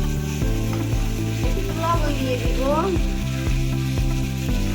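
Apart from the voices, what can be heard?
potatoes frying in oil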